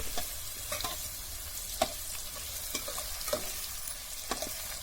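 Kothimbir vadi, Maharashtrian coriander fritters, frying in hot oil with a soft continuous crackle and a series of light clicks and pops spread across, fairly quiet and close, no speech.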